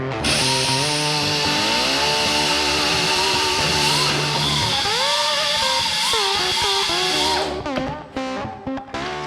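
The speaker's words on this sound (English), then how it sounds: "now we're going to use the old carbide burr" A carbide burr whines loudly as it grinds metal, its pitch dipping and rising as it bites, then cutting out into a few short final bursts, while fitting a 3/4-inch D-ring shackle during a trailer build.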